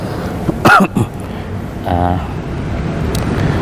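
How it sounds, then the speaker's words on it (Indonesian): A man coughs once, sharply and loudly, during a Ramadan study session at a mosque before the fast is broken. Faint background noise follows, and a brief throat sound comes later. "saya masih batuk, jadi kadang terganggu dengan batuk saya"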